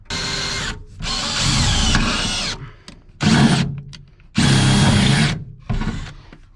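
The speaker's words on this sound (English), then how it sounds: "drill bits so we can drill through" A power drill bores through metal while a sound system is fitted to a motorcycle, in several loud, close bursts of whining drilling separated by short pauses, with no talking.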